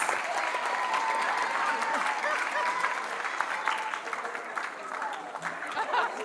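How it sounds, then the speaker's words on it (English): Sustained audience applause fills a school graduation ceremony at Alpha Junior School, a dense, steady clatter of many hands from a large crowd, with faint voices and a few chuckles mixed in throughout. "A big round of applause for Caden"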